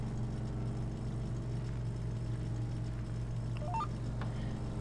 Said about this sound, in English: the motor sound needs to be a little bit more in line with the throttle